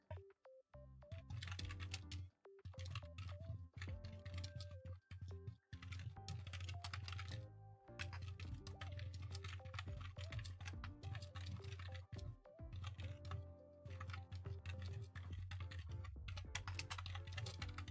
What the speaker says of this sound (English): I'm just typing to my friend